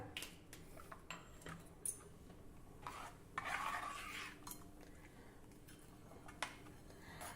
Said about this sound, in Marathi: आता मध्यम आचेवर सतत ढवळत आपल्याला ही खीर शिजवून घ्यायची आहे